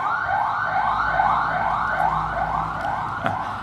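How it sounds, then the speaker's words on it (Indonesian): An ambulance siren wails loudly and steadily, its rising sweeps repeating in a regular rhythm over faint road noise. "Ketika ambulan itu lewat"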